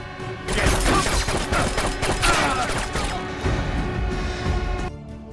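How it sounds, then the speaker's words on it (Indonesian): A dense, chaotic burst of loud gunfire, many shots overlapping in a sustained volley with crashing impacts, ending abruptly. "Suara tembakan dari Leonard memancing kedatangan pasukan polisi"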